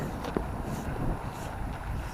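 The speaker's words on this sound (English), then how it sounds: "this bit's a bit windy" Steady wind buffets and rumbles across the microphone, a low roaring gusty noise with no voices.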